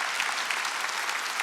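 A dense, continuous burst of applause from a church congregation during an ordination service, broad and even, heard alone without speech.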